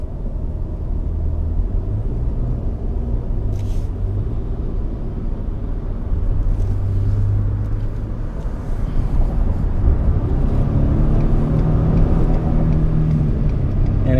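A 2018 Ford F-150 3.5L EcoBoost with a 10-speed transmission drones steadily from inside the cab, its low rumble rising as it accelerates to highway speed, with road noise underneath and no talking.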